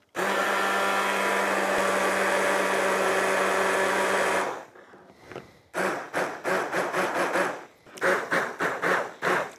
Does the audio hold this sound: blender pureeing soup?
yes